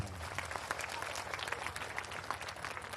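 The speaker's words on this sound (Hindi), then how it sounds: "सबको ताली बजा देंगे।" Worshippers at a first Mass celebration in a church clap together after thanks from the family, a dense, continuous wash of many hands at moderate volume, steady throughout with no voices standing out.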